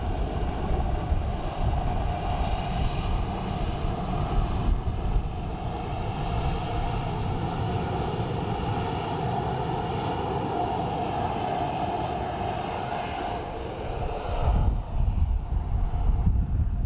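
A Swiss Air airliner's engines drone steadily on approach to Dublin Airport, a continuous broad rumble with a hum that rises slightly, heard from a distance amid outdoor wind noise.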